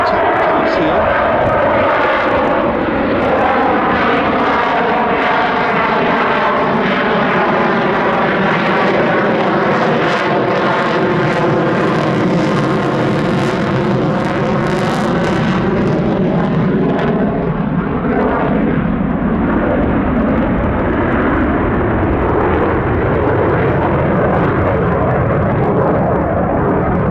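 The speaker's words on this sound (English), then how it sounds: "The aircraft in an extremely slow high alpha, high angle attack pass here." An F-35 fighter jet makes an extremely slow high-alpha, high angle of attack pass at the Battle of Britain Air Show at Duxford, a loud continuous engine roar with sweeping pitch shifts as it passes, with a voice talking over it.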